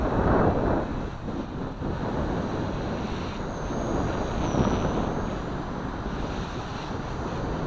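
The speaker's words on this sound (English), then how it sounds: "The wind's died down just a little bit now." Strong wind gusting outdoors, a continuous rough roar buffeting the microphone, loudest at the start and easing slightly, with a faint whine drifting above it and no voices.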